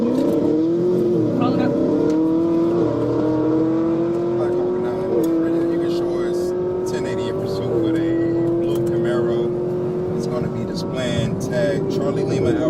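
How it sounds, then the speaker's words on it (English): A stolen Chevrolet Camaro ZL1 with a 650-horsepower supercharged LT4 engine accelerates away hard, its loud engine climbing through repeated upshifts with rising revs, under steady talk. "Then the driver unleashes all 650 supercharged horsepower and vanishes"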